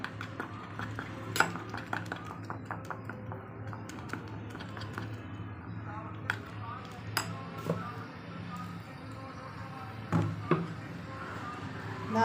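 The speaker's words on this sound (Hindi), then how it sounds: "इसमें वाटर डाल देते हैं थोड़ा सा, अब इसे मिक्स कर लेते हैं।" A spoon mixes potato batter and water in a bowl with a steady run of small clinks and scrapes, clustered taps standing out now and then over a low background hum.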